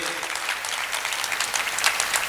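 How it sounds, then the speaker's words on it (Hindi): Sustained audience applause at a Hindi-language honouring ceremony, a dense steady wash of many hands clapping throughout with no one speaking over it. "शब्द चिकित्सक के लिए एक बार जोरदार तालियां।"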